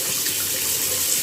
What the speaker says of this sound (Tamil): அது வாஷ் பேசன், தண்ணி.